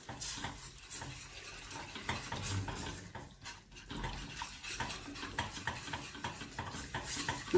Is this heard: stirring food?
yes